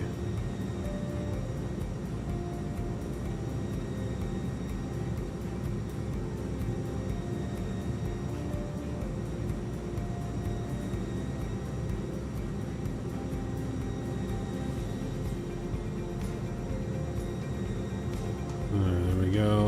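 An iniBuilds A300-600F FedEx cargo airliner hums with a steady jet-engine drone on approach to landing in Microsoft Flight Simulator, and a brief, louder thump comes near the end.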